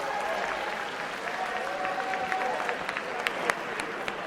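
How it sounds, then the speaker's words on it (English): High school students at an alumni awards assembly applaud themselves, a sustained patter of clapping from a large crowd with scattered voices and a few sharper claps standing out. "Give yourself a round of applause"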